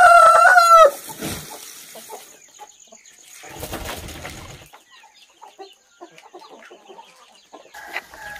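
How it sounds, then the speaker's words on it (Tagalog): Backyard chickens at feeding time: a loud rooster crow opens, followed by scattered clucks and soft scratching movements nearby, with brief quiet gaps between calls. "Ito na nga po ang ating mga alagang manok."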